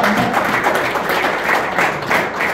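A church congregation claps together, a close, dense wash of applause with a loose rhythmic pulse running for a few seconds.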